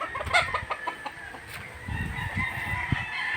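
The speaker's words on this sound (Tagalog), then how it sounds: "Sa likod mo, barako no." Young roosters about three to four months old in a farm yard: close, rapid clucking followed by a short, drawn-out crowing call, moderately loud with no talking.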